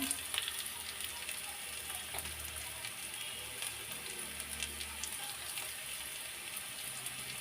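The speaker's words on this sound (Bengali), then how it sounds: "তো আমার এই যে পেঁয়াজটা একটু ভাজি ভাজি করা হয়ে গেছে এখন এখানে একটু হলুদ অ্যাড করে দেবো" Onions sizzling steadily in a hot pan after turmeric and salt go in, a continuous crackling hiss with faint stirring scrapes, no talk over it.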